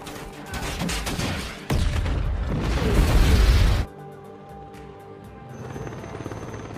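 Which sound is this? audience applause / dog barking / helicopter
helicopter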